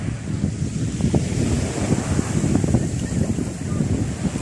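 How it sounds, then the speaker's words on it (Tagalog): Strong wind blows by the sea where someone fishes with a bamboo rod, roaring steadily into the microphone over rumbling waves, with no talk. "medyo lumalakas na yung hangin"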